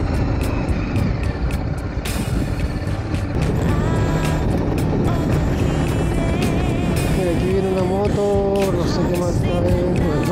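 Engine noise from a 2023 BMW G 310 GS motorcycle while riding, a loud continuous drone with shifting pitch and wind rush, some faint talk mixed in.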